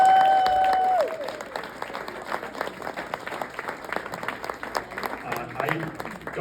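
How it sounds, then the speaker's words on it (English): A comedy festival audience breaks into sustained applause for performers, a steady wash of many hands clapping after a brief spoken line at the start. "How about a big round of applause for Lou"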